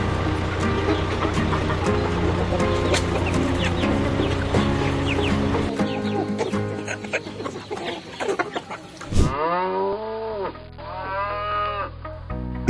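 Chickens cluck in a U.S. livestock farming and processing setting, mixed with drawn-out cattle-like calls near the end, all under loud, dense background music.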